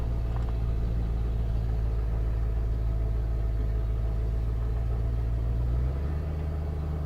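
A truck with an E4OD transmission fitted with a Quick Shift 4 rolls downhill, its steady low engine rumble droning close and even throughout, with the pitch stepping slightly near the end and no voices.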